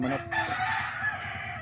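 Rooster crowing close by, one loud drawn-out call that rises and holds before trailing off, alone without talk.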